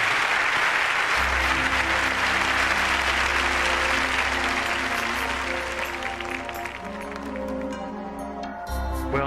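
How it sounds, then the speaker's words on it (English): Studio audience claps in sustained applause under a low steady musical hum, the clapping loud at first and tapering off toward the end. "George, please accept my thanks and all of this applause."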